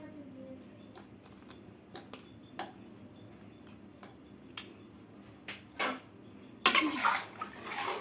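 Fried pumpkin bori and broth go into a pot of light Katla fish curry: sharp clinks and knocks of utensils against the pot are scattered throughout, then a louder wet, splashy burst of pouring near the end.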